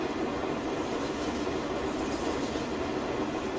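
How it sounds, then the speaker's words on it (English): A train in the video game Farming Simulator 19 rumbles past steadily with a continuous rolling, rattling clatter of wagons, heard alone at moderate volume. "Look at that train. That's a great train, isn't it? Great noise as well."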